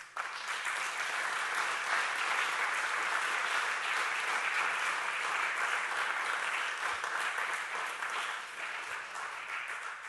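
Audience at an academic awards session honouring best papers gives a sustained round of applause, a dense steady wash of many hands clapping at even loudness for about ten seconds with no speech.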